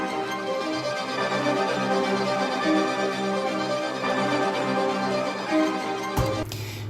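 Synth pad arpeggio layered with heavy effects, a continuous bright pattern of repeating notes that plays steadily before a sudden change near the end.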